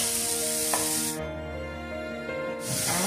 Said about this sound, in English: Oil got hot and now I'm going to add the onions